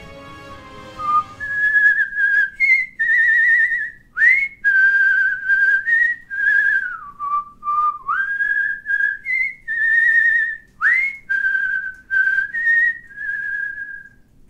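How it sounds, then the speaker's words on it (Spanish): A clear, close whistled melody stands in for a piper's mysterious flute tune, rising and falling in sustained and bending notes with short gaps between phrases. "Era el flautista que iba tocando su flauta."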